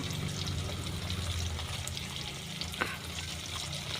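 Continuous crackling sizzle of chili powder frying in hot oil, close and steady, with a faint clink midway.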